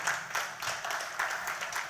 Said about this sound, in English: A round of applause for Femi